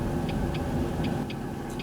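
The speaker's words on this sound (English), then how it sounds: "The indicators on here, they're really nice and loud" Turn indicator ticking inside a Jaguar X-Type 2.5 V6 while driving, a crisp regular click about every quarter second sitting over the steady low rumble of the engine and road.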